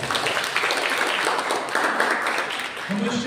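A church congregation claps together in a steady, sustained patter of many hands filling the room, with a voice speaking over it near the end.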